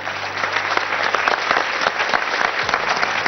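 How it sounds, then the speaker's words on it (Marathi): Steady, dense applause from an audience at a homeopathy talk, continuous claps filling the whole stretch at an even level with no voices over it. "त्यांना एकदा जोरदार टाळ्या देऊया."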